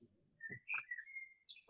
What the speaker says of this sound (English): I am hearing a like a bird singing.